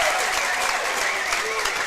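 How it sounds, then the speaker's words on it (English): A basketball crowd at a Forest City game applauds a buzzer-beating shot off the glass, dense steady clapping with a few voices shouting within it, loud and sustained across the whole moment. "Forest City crowd appreciating that shot by Seglum"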